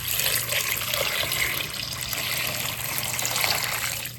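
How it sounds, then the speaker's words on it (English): Water runs and splashes steadily in a sink, with soft sloshing as produce is rinsed in baking soda and water. "We're just going to wash this real quick with some baking soda and water."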